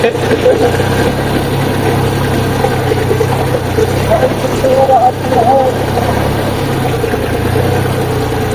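A tractor, restarted after sitting unused for eight months, idles steadily with a low mid-range engine drone while stuck in muddy ground, with people talking over it.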